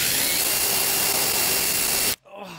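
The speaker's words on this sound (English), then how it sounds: "Now continue drilling." A power drill runs steadily on a 2006 Subaru Outback during CV shaft work, a loud continuous whine and hiss for about two seconds before it cuts off abruptly into quieter background.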